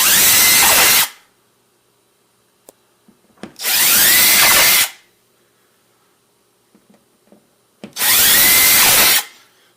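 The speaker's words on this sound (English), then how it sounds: "I'm using a 1/4 inch drill bit" Three loud bursts of a power drill with a 1/4-inch bit boring into a kitchen wall, each lasting a second or so, separated by quiet pauses with small clicks and taps.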